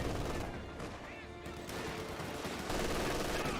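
Rifle squads trading gunfire in Company of Heroes 2, with continuous rattling volleys and bursts layered over battle din and a steady low rumble, while a voice talks over the fighting.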